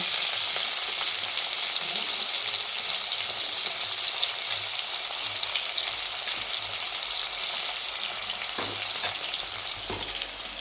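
Chopped tomatoes with salt frying in a pan for a Bengali doi potol curry give a loud, steady, close sizzle throughout, broken by a few soft stirring scrapes toward the end.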